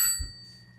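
A single bright timer bell strikes once at a candidate debate, its clear metallic ring fading quickly over a quiet room.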